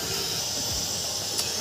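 Onions dropped into hot oil in a large wok, a brief steady hissing sizzle close by with a faint clink near the end.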